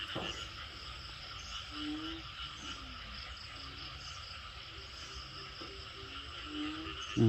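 A chorus of croaking banded bullfrogs around rice fields after rain, with repeated short croaks over a bed of insect chirring, and one louder call nearby at the very end.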